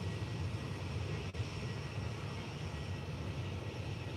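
Aer Lingus Airbus A330-300 jet airliner engines during pushback at Faro Airport, giving a steady, continuous low roar and hum heard from a distance, with no talking.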